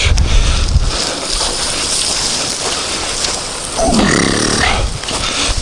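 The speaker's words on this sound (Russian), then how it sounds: "Здесь ветерок дует" Wind buffets the microphone in loud, rushing gusts, with brief bursts of rumbling noise and faint talk in the background.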